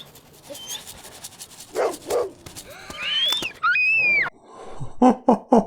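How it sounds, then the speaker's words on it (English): A dog on a TV show barking and panting, with a few sharp yips, whimpers and rising whines, fairly close, mixed with brief voices in the scene. "If I see that dog in my yard again, I'm gonna shoot it"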